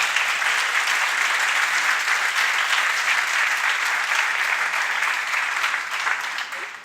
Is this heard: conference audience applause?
yes